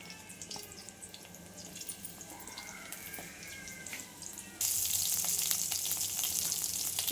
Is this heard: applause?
no